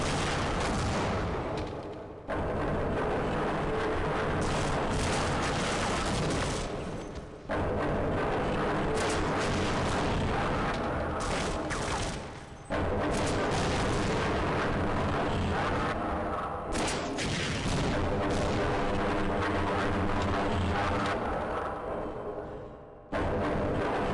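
Heavy weapon fire in the first-person shooter Half-Life: Opposing Force, a run of loud blasts and explosions with brief gaps between bursts, dense and near, with little or no talk.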